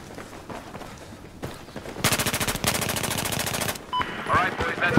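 Automatic gunfire in a combat video game: a steady, rapid machine-gun rattle runs for about two seconds after quieter background noise, with a short gap in the middle, then fades into ambient noise.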